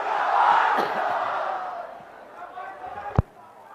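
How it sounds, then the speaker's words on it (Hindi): A large crowd at an election rally roars and cheers in a broad, washy swell that slowly fades, with one sharp loud bang near the end. "जोरदार तालियों के साथ उनका स्वागत करेंगे"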